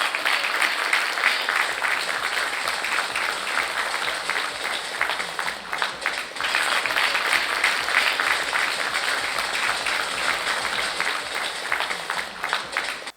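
An audience at an NCC Day event at Chola Sheraton claps to welcome a speaker onto the stage. Broad, sustained applause from a large hall crowd carries on steadily, with a low rhythmic thump underneath.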